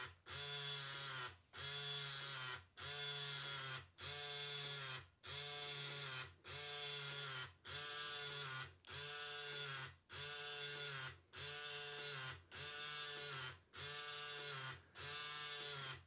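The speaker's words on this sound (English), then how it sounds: "You've got this tiny little printer in there. Doesn't need ink. Just prints onto a thermal paper." The tiny thermal printer of a Sharp PC-1251 pocket computer prints steadily: a close, buzzing whir repeats in about thirteen even line-by-line bursts with brief gaps between, and no one talks.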